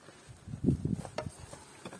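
Agitated honeybees stirring inside a hive during a winter inspection, giving a close, uneven buzzing hum with faint tapping and rustling.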